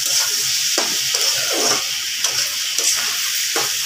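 Sliced onions with a pinch of salt fry in hot oil, giving a loud, steady sizzle broken by repeated scraping stirs of a spatula in the pan, with no voices.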